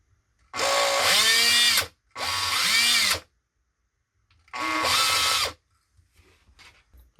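A Makita electric drill with worn carbon brushes runs in three loud bursts of about a second or more each, rough and whining with a wavering pitch as it spins up and down, separated by short silences.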